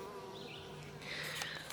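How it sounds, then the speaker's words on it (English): Bees and horseflies buzzing around a farm after a storm, a droning insect hum close by, rising briefly as one passes near, with no talk. "there's darn horseflies all around me, but the bees are active"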